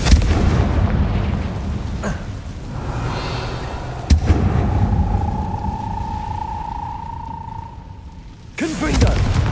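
Confringo fire spells blast in Hogwarts Legacy, with sharp booming impacts spaced a couple of seconds apart, a sustained whooshing tone in between, and a final heavy burst, all loud and close.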